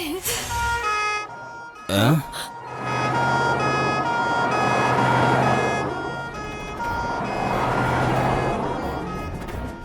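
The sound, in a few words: ambulance siren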